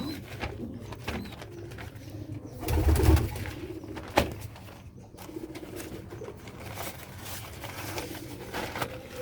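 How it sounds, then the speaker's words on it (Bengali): Pigeons, including a female, coo in low, throaty, rolling calls close by in their coop. The cooing swells in the middle and is mixed with soft rustling and handling noises. "এটা হচ্ছে মাদি কবুতর, এটা খুবই ডেঞ্জারাস"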